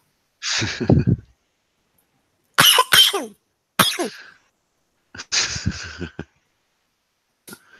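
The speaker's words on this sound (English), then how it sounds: "Don't forget to cough before you talk." Several loud, close coughs in separate bursts, some in quick double hacks, with silent gaps between them and no talking.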